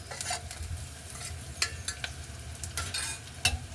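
Onions sautéing in a pan with salt added, a steady soft sizzle with intermittent scraping stirs and brief clinks of a utensil against the pan, close and moderately quiet, no talking.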